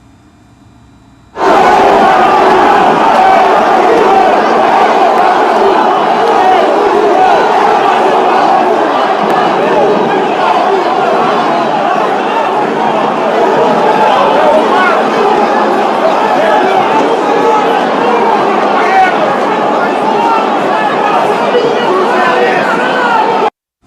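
Football supporters protesting after an Atlético MG versus América match, a loud sustained roar of a large crowd with shouting and chanting that starts abruptly and continues unbroken.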